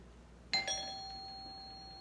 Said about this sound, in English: That was the neighbor's doorbell.